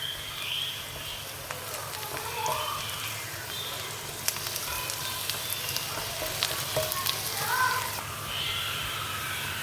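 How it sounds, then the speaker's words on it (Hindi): Ginger garlic paste sizzles and fries with browned onions in a pan, a steady, fairly quiet crackle with occasional sharper pops and stirring clicks throughout. "अब इसमें 1 चम्मच अदरक लहसुन का पेस्ट डालेंगे, बारीक कटा हुआ, और इसको मज़ीद 2 से 3 मिनट पकाएंगे।"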